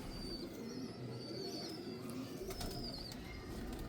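Dub pigeons cooing in a breeder's loft, soft low repeated coos close by with faint higher chirps and background hum running throughout.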